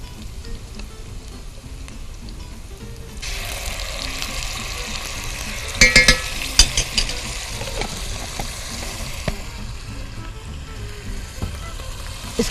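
Ginger garlic paste hits a hot pan of fried onions while cabbage pulao is being cooked, setting off a sudden, steady hissing sizzle with scattered clinks of stirring.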